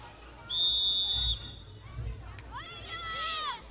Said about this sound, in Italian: Viene fischiato il calcio di punizione in favore del Basilea.